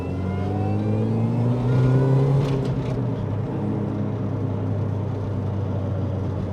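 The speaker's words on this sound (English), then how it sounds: "A convoy of many minis." A Mini engine drones as it drives in a convoy of Minis at the Brands Hatch Mini Festival, a loud, close, steady hum that swells briefly and then settles into a constant rumble.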